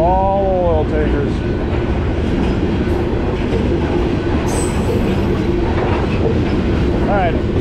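A freight train of oil tanker cars rolls past close by near the Mississippi, with a loud, continuous rumble and sharp wheel squeals near the start and end.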